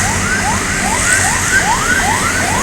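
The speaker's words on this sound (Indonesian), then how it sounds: "Ambulans." An ambulance siren on the Jalan Lintas Timur highway in Palembang, cycling through rapid rising yelps about three times a second. It is loud and steady over road noise, with no talk.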